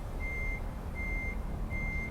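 Reversing beeps from an electric Scania 45S truck in Euro Truck Simulator 2, three evenly spaced high-pitched tones over a steady low rumble of engine and road noise, with no talking.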